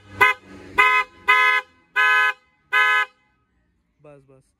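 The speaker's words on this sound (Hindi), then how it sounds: "मैंने इसका हॉर्न चेंज कराया था, आप देखो" Aftermarket trumpet horn fitted to a Hyundai Venue, five loud, close, brassy honks in a quick uneven series, then a brief quieter sound at the end.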